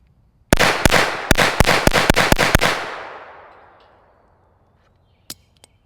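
A Retay RXP22 .22 pistol fired without a suppressor: seven or eight sharp, loud cracks in a quick uneven string, then a long fading echo and one more faint shot after a pause.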